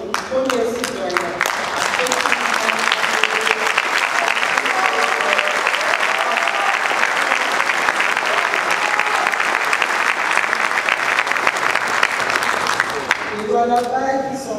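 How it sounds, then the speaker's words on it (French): A large crowd claps loudly and continuously at the opening of a governors' conference in Kolwezi, a dense roar of applause that fills the hall, with a voice speaking briefly at the start and again at the end. "d'applaudir notre premier citoyen."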